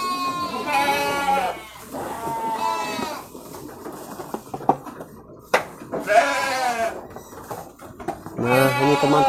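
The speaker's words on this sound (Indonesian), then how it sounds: "Nah, ini teman-teman dombanya lagi makan semua." Sheep on a farm bleating loudly and repeatedly while feeding, several close calls overlapping with soft chewing and rustling of feed in between.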